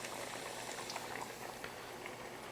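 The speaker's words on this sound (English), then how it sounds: "Shallow frying these, looking for a nice golden brown color." Lightly breaded chicken breasts shallow frying in oil for a golden brown Southern fried chicken, giving a steady, dense crackling sizzle that holds throughout at close range with no talking.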